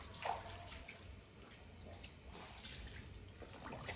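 Water splashes and trickles while socks are washed by hand, a faint continuous wash of running and sloshing water with no voices.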